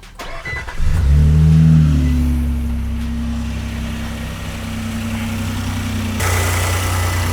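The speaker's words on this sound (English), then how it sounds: "It's going to fire up the truck." An engine cranks and catches, revs up loudly, then settles into a steady low idle that rumbles on close by: a 2022-or-later Nissan Frontier pickup truck engine with a catch can fitted.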